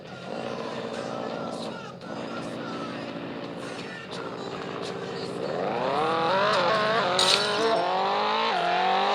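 Car engine and tire noise from a driving simulator game, a steady loud engine drone that climbs in pitch through rising revs in the second half, with brief squeals.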